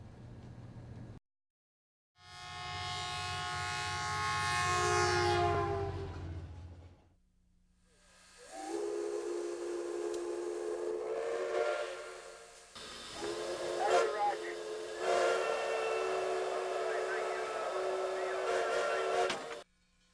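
A model train's loud whistle blows in several long blasts with hissing steam between them, sounding like a train at close range, no voices.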